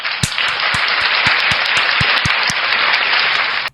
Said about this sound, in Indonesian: Tepuk tangan buat Rasulullah.